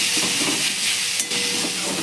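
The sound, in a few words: water spinach (kolmi saag) frying and being stirred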